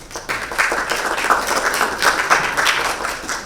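Steady applause from a conference audience, a dense wash of clapping hands sustained throughout, moderately loud and fairly close.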